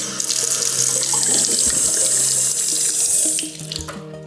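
Water runs steadily from a tap in an abandoned presidential villa, a continuous close hiss and splash that stops near the end.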